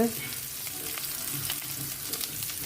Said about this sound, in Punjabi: ਪੋਹੇ ਦੇ ਵਿੱਚ ਮੈਂ ਤੜਕੇ ਦੇ ਵਿੱਚ ਪਹਿਲਾਂ ਮੈਂ ਪਾਤੀ ਆ ਕਲੌਂਜੀ ਥੋੜਾ ਜੀਰਾ ਪਿਆਜ਼